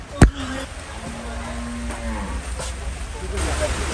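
Cattle low nearby in a drawn-out moo over a busy outdoor background at Gabtoli cattle market, with a sharp knock near the start.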